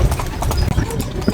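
Horse-drawn carriage in Tunisia clip-clopping along with steady hoof beats close by, overlapping with background voices.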